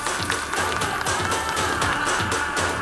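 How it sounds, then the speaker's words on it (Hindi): A packed audience at a film teaser launch applauds and cheers for producer Bhushan Kumar, a dense steady roar of clapping filling the room. "put your hands together for mister Bhushan Kumar जोरदार तालियां हो जाए"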